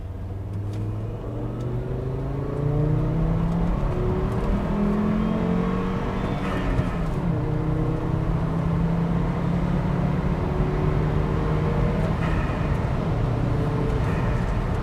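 A manual Volvo V70 T5 with a five-cylinder engine accelerates from inside the cabin, a continuous droning engine note rising in pitch through the gears with steady road and wind noise, no talking.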